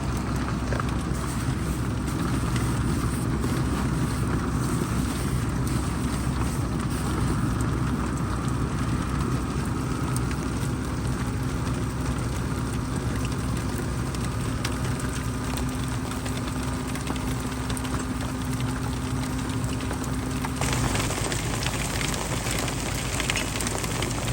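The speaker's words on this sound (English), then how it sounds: "we've got our heater going, as you can hear in the background" A portable heater runs steadily at a campsite, giving a continuous droning hum with a faint rattle, close and unbroken throughout with no talk.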